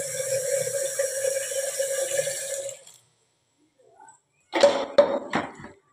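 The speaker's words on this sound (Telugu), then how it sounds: "కందిపప్పును నీట్గా కడుక్కోవాలి" Tap water running as toor dal (pigeon pea lentils) is rinsed, with a steady stream that stops, a pause, then a few splashy bursts of water in the sink.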